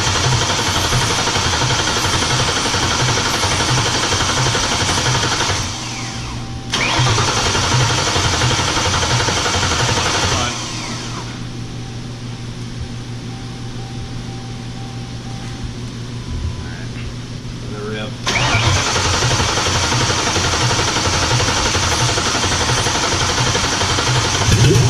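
A Ford Mustang GT500 engine cranks and fires up for the first time, then runs in a loud, steady idle with a rough low rumble. The sound stops and restarts across the stretch, and quiet voices come faintly underneath.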